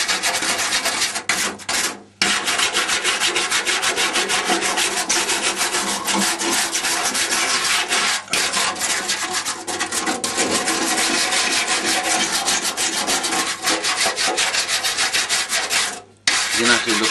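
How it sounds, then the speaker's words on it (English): A firm wire brush scrubs rust and loose debris off a badly rotted Jaguar body, producing a continuous harsh rasping scrape that keeps a fast back-and-forth rhythm with a couple of short pauses. "Next thing you need is a firm wire brush. Just get all the excess rubbish off."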